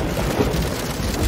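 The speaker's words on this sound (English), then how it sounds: "Rain!" A toy keyboard plays a rain sound effect, a dense, steady hiss of falling rain with a low rumble like thunder, loud and continuous for about a second.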